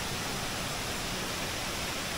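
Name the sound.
waterfall in Bali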